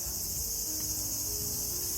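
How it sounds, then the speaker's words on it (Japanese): Cicadas shrill loudly and continuously in an outdoor summer setting, a dense steady buzzing drone that fills the whole clip without pause. "セミがめっちゃ鳴いてる。"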